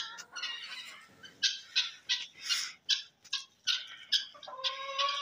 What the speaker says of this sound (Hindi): मुर्गा आ गया, अभी इसको खोलते हैं, देखते हैं वो क्या करता है।